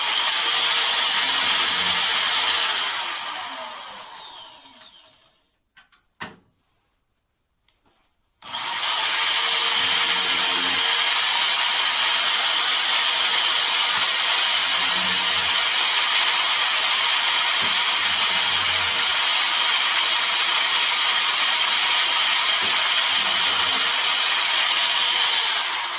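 A power drill with a Drill Wizard guide boring into wood, a loud close steady whir running for several seconds, a brief pause with small clicks, then another long continuous drilling run with faint rhythmic thumps underneath.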